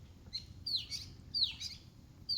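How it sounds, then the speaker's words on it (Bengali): Birds in the Sundarbans forest give a few sharp, high chirps and whistled calls, two or three separate bursts at middle distance over a quiet low rumble of surroundings. "বিভিন্ন পাখির কলরব"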